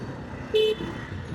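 A single short car horn toot sounds in a Dhaka traffic jam, moderately near, over a steady rumble of road traffic.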